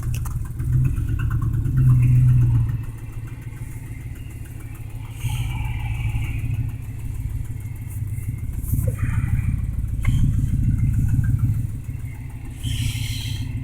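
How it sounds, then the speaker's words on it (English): A four-wheel-drive truck on an icy road, its engine droning steadily up close with its tires briefly spinning and revving louder in two surges. "Ain't that icy enough for me to use 4-wheel drive. Ooh, tires spinning a little bit"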